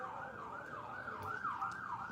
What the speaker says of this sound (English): As the siren goes off in the background there.